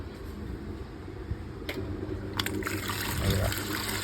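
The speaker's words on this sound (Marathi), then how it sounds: "असं पाणी येणार ती मोटर चालूच राहील." Water gushing from a pipe fed by a running motor pump, a continuous close rush of flowing water with a low steady hum and a few splashy surges.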